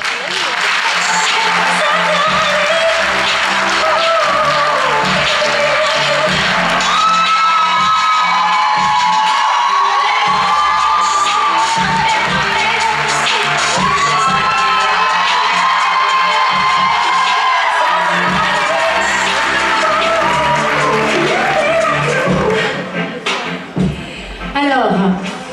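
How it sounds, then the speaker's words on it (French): A pageant audience claps, cheers and whoops for the Miss Côte d'Or 2023 candidates, loud and continuous, with music and shouted voices layered over the crowd throughout. "Merci de les applaudir."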